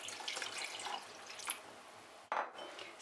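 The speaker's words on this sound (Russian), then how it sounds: "Немного наливаем холодной воды." Cold tap water pours and splashes into a chilled bowl of ice for a chocolate mousse, a steady close stream with a brief break near the end, no voices.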